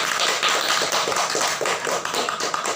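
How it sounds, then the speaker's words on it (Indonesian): Indonesian students in a group guidance class clap their hands together in a dense, steady patter of overlapping claps that fills the room for a few seconds, with no talking. "Baiklah, tepuk tangan dulu."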